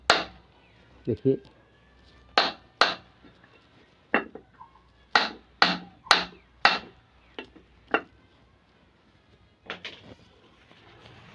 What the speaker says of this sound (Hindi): नया बेरिंग है दोस्तों, थोड़ा सा इसको मारना ज़रूर है